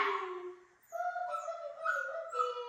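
A puppy whimpers and whines in a run of high, wavering cries, close and fairly loud, with a short break before the whine rises again and holds.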